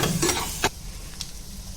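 Masala egg bhurji is stirred in a pan, a brief scraping stir with a sizzle that quickly drops to a low, steady frying hiss.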